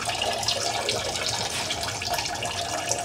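A man urinates into a bottle, a steady, close trickling stream of liquid that holds evenly for a few seconds with no talking over it.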